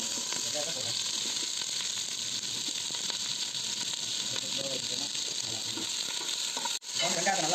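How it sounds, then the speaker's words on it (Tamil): Chopped onions sautéing in a little oil with cardamom for chicken biryani, a steady close sizzle and hiss with faint stirring scrapes, running continuously until a brief break near the end. "வெங்காயத்தை நல்லா வதங்கிட்டு இருக்கோம்."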